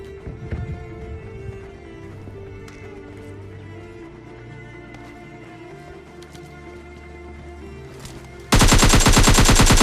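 Gunfire from a mobile shooter game in solo-versus-squad rush play, rapid bursts of shots running under game ambience, ending in a loud, dense automatic volley in the final second.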